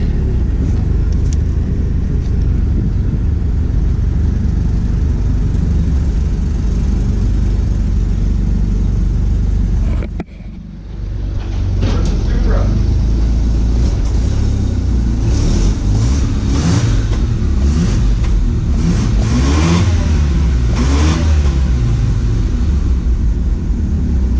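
A 1985 Mazda RX-7 rotary engine runs steadily at close range, then briefly dips quiet before rising again with rougher, revving surges and varying pitch.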